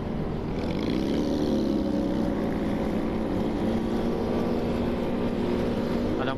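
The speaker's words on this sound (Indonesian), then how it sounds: "Ada motor Harley di belakang gua." A Harley motorcycle rides close behind on a quiet road, its engine a steady, loud, continuous drone with no talking.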